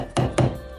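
Two quick, dull thumps close together, a short punchy electronic kick sound from a Roland SPD-SX sample pad, heard alone and fairly loud.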